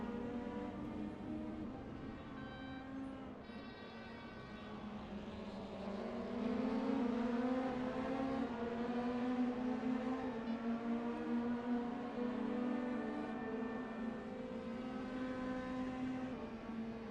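DTM race cars at the Norisring in a racing video game fight a four-way battle for the lead, their engines droning and rising in pitch together, loud and sustained, with no one speaking.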